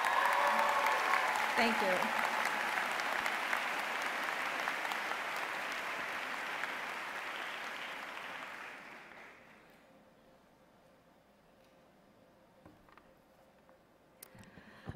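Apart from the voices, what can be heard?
applause for the faculty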